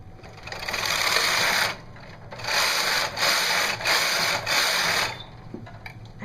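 A Brother KH270 bulky knitting machine carriage swept across the needle bed in knit-carriage mode, a loud close rushing mechanical whir in several passes separated by brief pauses, with a faint click at the end and no voices.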